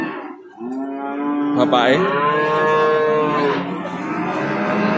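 A cow at Prambanan cattle market in Klaten lets out one long, loud, drawn-out moo close by, after a brief word from a man.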